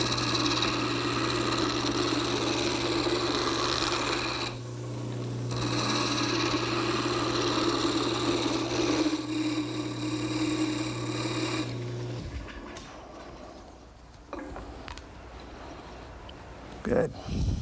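A wood lathe turns a rocking chair rung, the tenons cut to an exact 5/8 inch diameter, giving a steady loud motor hum with rasping tool scrape that drops out near the end. Talk can be heard during the turning.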